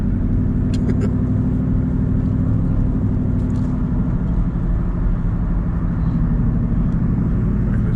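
A 2019 Dodge Charger R/T with its mid-muffler deleted cruises along, its exhaust a constant deep rumble heard from inside the car, loud and unbroken.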